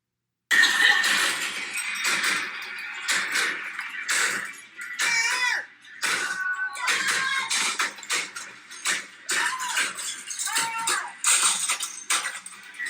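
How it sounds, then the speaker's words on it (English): Around eight people swing crowbars and bats in a Los Angeles rage room, giving irregular crashes, clangs and shattering bursts in a steady busy flurry, with a few short shouts mixed in. "That is the sound of about 8 girls with crowbars and bats breaking things"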